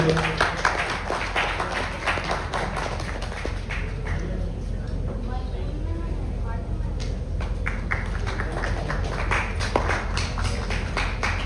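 Audience applause welcoming a film guest, sustained dense clapping from a crowd throughout, with a voice speaking over it and some louder claps standing out near the front.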